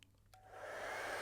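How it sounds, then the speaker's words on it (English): A handheld hair dryer switches on and blows a steady, loud rush of air that builds over the first half-second after a couple of faint clicks, then holds constant and close. "But air moves very fast out of a hairdryer."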